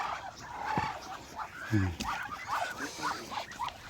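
Farm ducks following along outdoors make a few short honking quacks in a rough sequence, moderately close, with a voice speaking nearby and rustling background noise.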